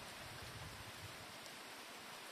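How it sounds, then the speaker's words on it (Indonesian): Steady, soft rain falling over a rice paddy field, heard as an even hiss with faint low rumble, continuous and fairly quiet with no voices. "lagi berteduh dikarenakan hujan"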